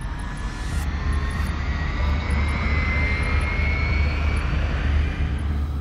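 Spaceship engines in the space game Starpoint Gemini give a steady, loud mechanical roar with a deep low rumble and a faint rising whine, sustained without a break and with no one speaking.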